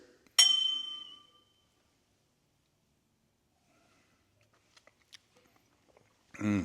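Whiskey glasses clink once in a toast, a single bright ringing chime that decays over about a second, followed by near silence, faint small taps and a voice starting at the end.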